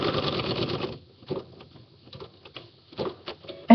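An embroidery machine stitches lines onto paper, a close rapid mechanical chatter that runs steadily for about a second, then continues as short, sparse bursts of clicking and tapping.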